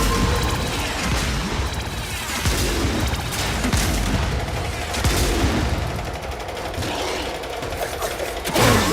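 Dense, continuous barrage of gunfire and explosive weapon blasts from the Warframe video game, with missiles launching in a loud, sustained volley and a sharp final burst near the end.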